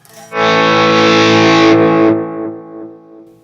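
A loud, gritty distorted guitar chord through an Analog Man ARDX20 analog delay pedal rings out and is cut off, leaving a fading trail of repeating echoes that darken as they decay.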